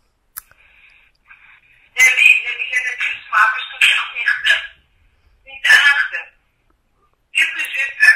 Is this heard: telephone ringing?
yes